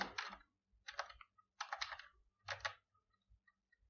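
Keystrokes on a computer keyboard while typing in Microsoft Word, coming in four quick clattering bursts with short pauses between them, close and fairly quiet with no talking.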